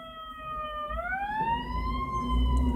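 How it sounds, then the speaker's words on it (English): An ambulance or fire truck siren passes by, a steady wailing tone that sweeps upward in pitch and holds, loud and continuous over low traffic rumble with no talking. "Damn, that's ambulance coming by. Fire truck."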